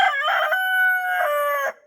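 A Brakel rooster on a poultry farm crows once, loud and close, a drawn-out cock-a-doodle-doo lasting nearly two seconds that breaks off abruptly at the end.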